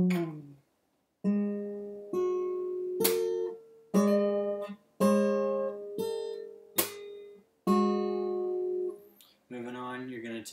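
Fingerstyle acoustic guitar played slowly at around 30 to 50 bpm, with a string of evenly spaced plucked chords that each ring and decay, some with sharp percussive slaps, close and clear.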